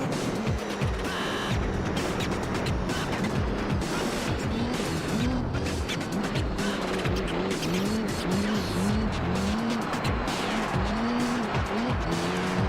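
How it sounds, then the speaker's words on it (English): A Mazda RX-7 slides through mud in Gran Turismo 3, its engine revving and shifting up and down continuously with tire noise and skidding, loud and close throughout, with faint background talk. "It's so funny to see the RX-7 just slicking through the mud."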